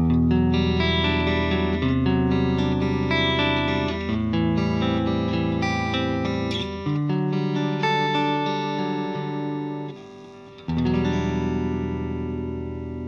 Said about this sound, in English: I'm playing my Deluxe Stratocaster on the neck pickup for all examples.